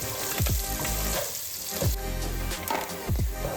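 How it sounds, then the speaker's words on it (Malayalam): Marinated prawns fry in hot sunflower oil in a pan, giving a steady close sizzle broken by three scraping stirs spaced roughly a second apart. "ആദ്യം മാരിനേറ്റ് ചെയ്ത് വെച്ച ചെമ്മീൻ നമുക്കൊന്ന് ചെറുതായിട്ടൊന്ന് ഫ്രൈ ചെയ്തെടുക്കാം"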